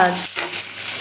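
Chickpeas are stirred in a hot pan, with a steady sizzle and a soft scraping of a spoon through the contents.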